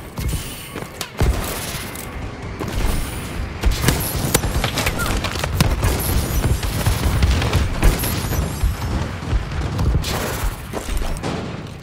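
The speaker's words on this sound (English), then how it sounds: "Friendly bombing run incoming." Bombing-run explosions in the video game Call of Duty: Advanced Warfare, a dense, continuous roar of booms and rapid gunfire lasting throughout, loud and close, with brief game voice callouts mixed in.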